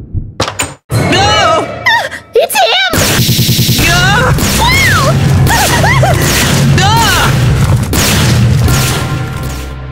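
A turret in a Minecraft game fires as a kidnapper enters a security house, with rapid booming thuds and gunfire-like bursts under excited, high-pitched animated voices talking and yelling.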